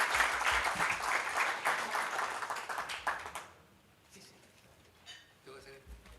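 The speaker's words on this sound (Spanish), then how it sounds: "les pido un aplauso porque aquí cerramos" An audience at a university literary talk on novel writing breaks into lively applause that stops abruptly after about three seconds. Quiet room sound and a few scattered claps follow.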